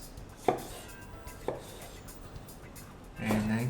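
A knife strikes a cutting board as tomato flesh is cut into cubes: three sharp, separate chops about a second apart, then a clatter of dishes, with no voices.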